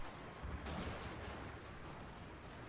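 Musket volley fire in the video game Fall of the Samurai, a dense continuous rumble of massed shots with one sharp crack standing out early, steady and loud throughout with no voices.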